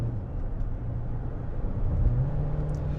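A Chery Tiggo 7 PHEV plug-in hybrid SUV cruising at about 60, heard from inside as a steady low road rumble and soft drivetrain hum, fairly even throughout with a slight swell near the end.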